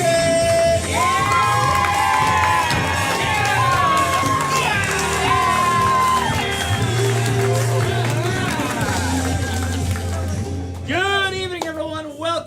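A comedy club audience cheers and whoops loudly for the host walking on at First Coast Comedy's main event, a dense sustained roar with shouts and pitched yells, swelling again near the end.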